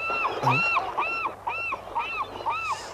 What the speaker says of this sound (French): Ça, c'est une mouette.